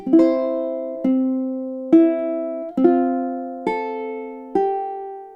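Ukulele playing measures 23 and 24: six plucked notes at a steady, even pace, each ringing briefly before the next, close and solo.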